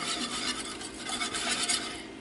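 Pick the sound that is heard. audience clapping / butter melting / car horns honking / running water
butter melting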